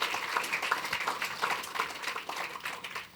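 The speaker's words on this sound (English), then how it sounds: "a special round of applause again to you" Applause for honorees drawn from the field of education at a formal ceremony, a dense patter of many hands clapping steadily for a few seconds with no voices over it.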